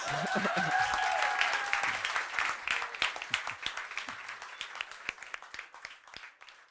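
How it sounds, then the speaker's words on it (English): An audience claps at a startup demo day with live pitches, with a voice briefly at the start, then scattered applause that thins into separate claps as it fades. "Give them a big round of applause."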